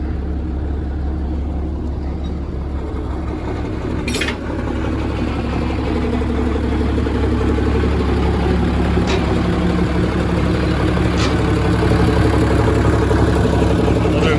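An old truck with a 335 engine idles nearby, a steady low rumble that holds even throughout, with a few faint clicks and knocks riding on top.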